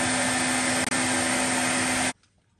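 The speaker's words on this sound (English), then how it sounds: "Now we're gonna use the hair dryer." A loud, steady blowing whine of a hair dryer, used on a motorcycle gas tank during rust removal, runs for about two seconds, briefly dips, then shuts off abruptly into near silence.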